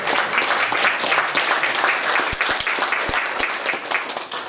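Audience applause fills a hall at an Amiga30UK retro computing event during a mystery guest's introduction, a steady dense wash of many hands clapping that holds for several seconds.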